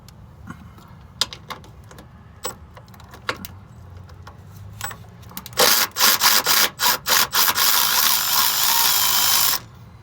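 Sparse metallic clicks and taps come first, then a loud burst of rapid clicking and whirring as a 10 mm bolt is removed from near the wheel speed sensor of a 2012 Honda Pilot.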